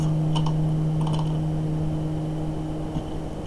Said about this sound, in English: I'm going to type GL program uniform 1F.